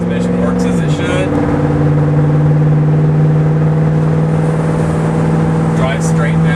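A 1972 Ford Gran Torino Sport Fastback cruising on the road, its engine holding a steady, loud droning hum with a brief shift in pitch near the start, then a constant tone throughout.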